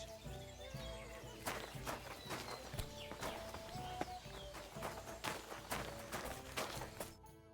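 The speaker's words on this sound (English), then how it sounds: "My, what a beautiful horse." Horse hooves clip-clop in a steady walking rhythm within a video game, a series of distinct close knocks over faint ambient music, quiet overall.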